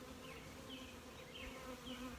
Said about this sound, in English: I do have a lot of bees covered in pollen.